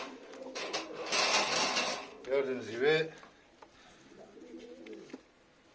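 Close pigeons of the Sivas breed coo in low rolling calls after a burst of flapping or rustling, with a person speaking briefly.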